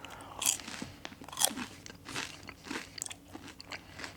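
Crunchy McDonald's McPlant plant-based nuggets are bitten and chewed close to the mic, with a series of crisp, irregular crunches and chomps that come alone, with no talking.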